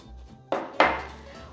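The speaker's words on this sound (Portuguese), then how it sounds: "que caiu aqui o batedor" A metal whisk tips over on a kitchen counter during blender cake prep, making two sharp clattering knocks about a third of a second apart, the second louder, each ringing briefly and fading, with no voices.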